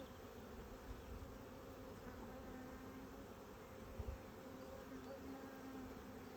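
Honeybees droning steadily around an open hive during an inspection, a dense continuous buzz with a brief knock partway through and no speech.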